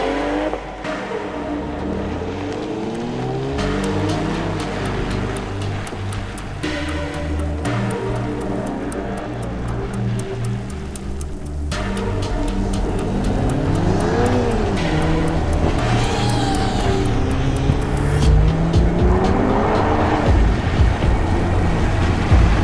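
A rear-wheel drive BMW races around a wet parking lot, its engine revving up and down continuously and loudly, with shifting pitch sweeps and splashing road noise from tires on water.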